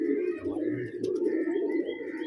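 A homing pigeon, a female returning to its loft after a long flight, coos in low rolling bursts close by, with a few faint chirps from other birds in the background.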